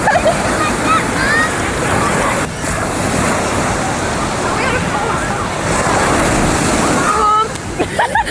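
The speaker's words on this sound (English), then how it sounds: "We finally made it to the beach." Ocean waves wash steadily onto a beach with cold water, a continuous loud roar of surf mixed with wind buffeting the microphone, and voices faintly heard in the background.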